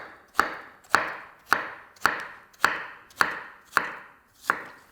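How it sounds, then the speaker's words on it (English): A kitchen knife chops zucchini into long slices on a cutting board, eight crisp regular strokes about two-thirds of a second apart, close and clear with no talking. "cut them again into some longer slices, and then go back over them"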